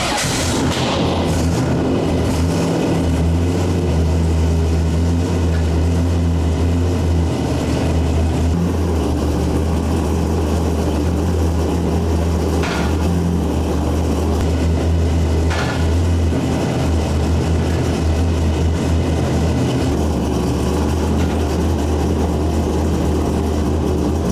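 A C6 Corvette competition drift car with a dog box runs with its wheels off the ground. A loud, steady low engine drone fills the whole stretch, with a couple of brief sharper knocks as gears engage.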